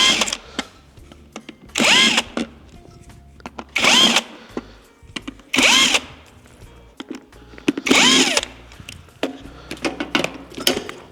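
A power drill unfastens bolts on a filter housing during a repair, with five loud whirring bursts of about a second each at a steady rhythm, broken by small clicks and clanks between runs.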